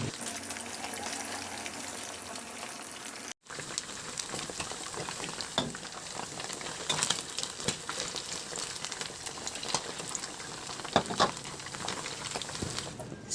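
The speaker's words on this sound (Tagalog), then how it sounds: "magpainit na ako ng mantika at iprito ko na yung binabad nating manok" Marinated chicken pieces frying in hot oil in a pan, a steady dense sizzle with occasional pops and crackles throughout, briefly cut off near the start before resuming.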